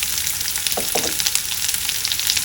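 Thinly sliced onions fry in hot oil with green chilies and ginger, giving a loud, steady, close hiss of sizzling with a couple of brief stirring scrapes and no voices.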